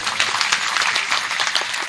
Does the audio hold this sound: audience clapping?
yes